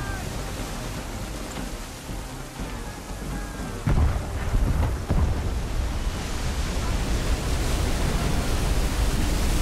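A thunderstorm with heavy rain at sea aboard a sailing ship in Assassin's Creed 3: a constant downpour hiss, with thunder rumbling in at about four seconds and booming again shortly after, loud and close.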